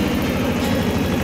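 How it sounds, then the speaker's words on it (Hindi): An Eicher 188 four-wheel-drive tractor engine running steadily at 1500 rpm while cultivating a ratoon sugarcane field, a loud, close, throbbing low diesel rumble with even pulsing and no voices. "tractor Eicher 188 four wheel drive में ट्रैक्टर है ये, जो कि 1500 आरपीएम पे चल रहा है"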